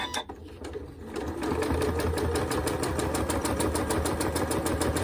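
A domestic sewing machine stitches a quarter-inch quilting seam with a 1/4 inch presser foot. After a short quiet start it settles into a fast, steady mechanical chatter that runs continuously and close by.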